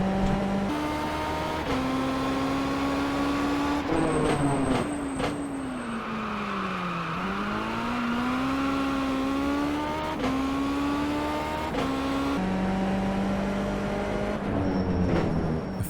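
A race car in the iRacing or Assetto Corsa sim game runs on track with a loud continuous engine note that rises through the gears and dips as it shifts and brakes, holding near top speed down a long straight.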